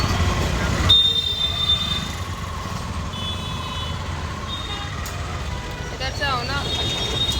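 Busy street traffic with engines, horns and reversing beeps rumbling steadily throughout, a shopping outing in heavy congestion, with someone speaking briefly over the din.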